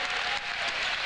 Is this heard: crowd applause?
yes